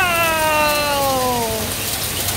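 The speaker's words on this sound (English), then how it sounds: "It is hailing outside." Hail falls outside in Jaipur with a loud, dense, continuous patter, and a descending meow-like cry sweeps over it early on.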